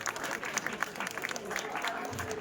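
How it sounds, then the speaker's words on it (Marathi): An audience claps steadily through an outdoor prize-giving for a lemon-and-spoon race, a dense, continuous patter of many hands with a voice carrying over it. "टाळ्या वाजवा जरा, टाळ्या वाजवा"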